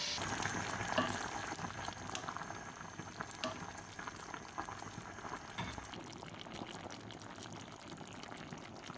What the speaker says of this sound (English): Cover and simmer until the fish are cooked.